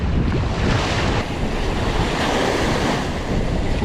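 Surf breaks steadily on a Rhode Island beach, a dense, loud wash of waves with wind buffeting the microphone, continuous throughout.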